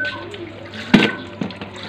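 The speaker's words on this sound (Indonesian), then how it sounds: "Tuh, siram air." Water is poured over the condenser of a Polytron display freezer with ice buildup, splashing onto a hard surface against a steady background hum, with a sharp gush near the middle and a smaller splash after.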